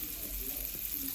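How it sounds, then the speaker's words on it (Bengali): Chopped onions fry gently in oil tempered with panch phoron five-spice for a rohu fish curry with potatoes and aubergine, a soft low steady sizzle heard close. "এখন পেঁয়াজটাকে হালকা লালচে করে ভেজে নেব।"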